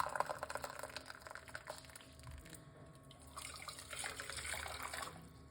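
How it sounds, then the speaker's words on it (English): Hot water running from a tap into a medium cooking pot, a steady splashing rush that shifts in tone as it fills, moderately quiet and alone. "So that's some hot water right there."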